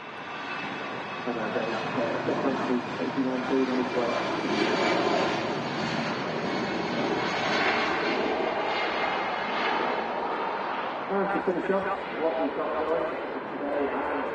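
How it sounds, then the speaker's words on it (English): Lufthansa Airbus A319 departing Manchester Airport, a broad steady engine roar that swells and holds for several seconds before easing, heard at some distance. "There she goes, the A319 with Lufthansa."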